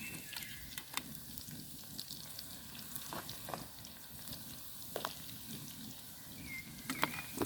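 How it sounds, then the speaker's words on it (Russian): Food deep-fries in oil on a titanium camp stove outdoors, giving a soft, steady sizzle with scattered pops and crackles, faint and close, with no talking. "В фритюре все готовится очень быстро."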